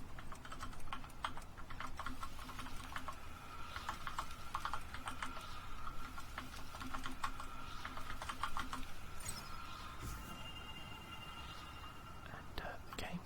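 Soft, rapid typing on a computer keyboard while playing the typing game Epistory, a steady close patter of key clicks throughout with whispering over it.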